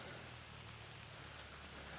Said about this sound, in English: as it's raining, all the leaves are moving